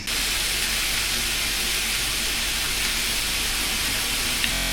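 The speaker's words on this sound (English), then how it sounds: "Let's hear that sizzle once again." Steady loud sizzling, a dense crackling hiss of shish kebab skewers cooking on a hot grill, continuous and close with no voices.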